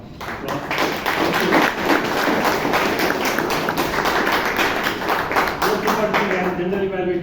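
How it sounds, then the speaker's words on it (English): Applause from the audience at a Bangalore Toastmasters meeting: steady, fairly close clapping from a modest group that lasts several seconds and fades toward the end, with speech mixed in. "Another round of applause."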